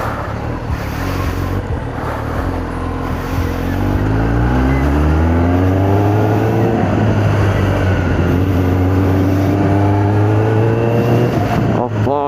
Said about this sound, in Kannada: ರೇವ್ ನೋಡೋಣ.